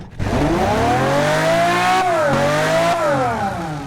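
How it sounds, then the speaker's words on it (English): A car engine in the Automation and BeamNG driving games revs hard and steadily, a loud sustained tone climbing in pitch, dipping briefly twice and rising again, with no talk. "My God, this is a gorgeous sounding engine."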